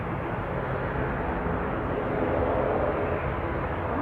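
An airplane at Manchester Airport makes a steady, broad jet roar that holds constant throughout, heard from a distance with no voices over it.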